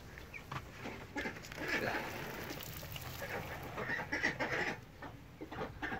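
Backyard chickens cluck and murmur softly near a running garden sprinkler, with a person talking over the quiet, intermittent calls.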